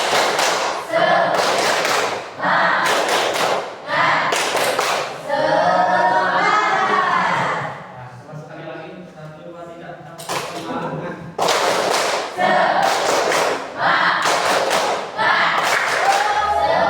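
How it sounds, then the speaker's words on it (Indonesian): Students in an Indonesian classroom perform a rhythmic spirit clap, loud bursts of patterned clapping repeated several times, with a stretch of group chanting in the middle. "Coba tepuk semangat."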